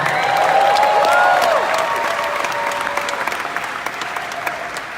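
A business event audience breaks into sustained applause that starts loud and fades slowly, with scattered cheering and voices calling out over the clapping.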